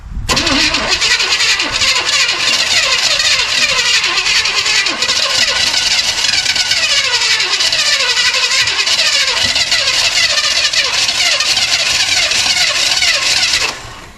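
A Chevy small-block 350 V8 cranks and sputters as it tries to start, a loud, steady mechanical churn lasting about fourteen seconds before cutting off, heard up close without talk.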